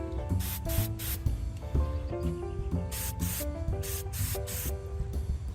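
Short bursts of spray paint hiss in rapid succession as olive drab is applied over self-etching primer to the rivets on a WW2 M1 paratrooper helmet liner, close and loud over a low background rumble.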